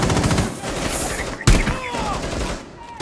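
Rapid automatic gunfire in the video game Rainbow Six Siege, dense bursts of shots with a sharp louder crack midway, loud and close, with game effects and no clear talk.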